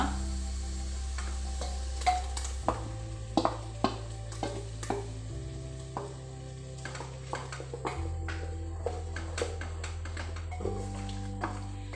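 Tomato masala paste sizzles and fries in a pan for a prawn coconut milk biryani, with a steady low frying hiss and repeated scraping stirs of a spoon, close and fairly loud, no talking.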